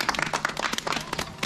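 Clapping breaks out for the youngest member of a Buddhist pilgrimage group, a short spell of scattered, uneven hand claps from a small gathering with faint murmuring underneath.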